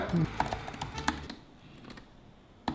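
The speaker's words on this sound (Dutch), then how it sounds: "Dus dan gaan we even typen." Quick clicking keystrokes on a computer keyboard, close and moderately loud at first, then thinning out into a few scattered taps with quieter gaps.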